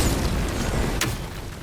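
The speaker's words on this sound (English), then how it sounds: "That bomb should help us out." A bomb explodes in God of War Ragnarök, a single sharp burst about a second in, rising over a steady low rumble of game ambience.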